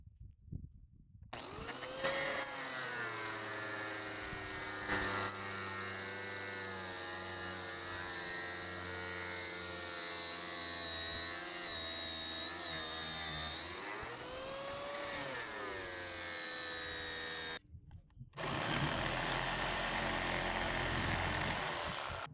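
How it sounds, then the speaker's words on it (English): An angle grinder cuts the crown off a scrap electric motor, a loud sustained high whine with shifting pitch as the disc bites the metal, briefly stopping near the end before starting up again with a rougher tone. "it's probably best to just use the angle grinder and take the crown off"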